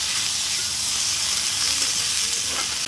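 Potatoes with salt and ginger garlic paste frying in a pan, a dense, even, close sizzle with no pauses.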